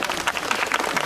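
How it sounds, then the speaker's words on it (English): An audience applauds at a traditional Māori welcome in New Zealand as a chief is introduced to a group of children, the clapping steady and close throughout the brief stretch with no voices on top. "please give a big round of applause"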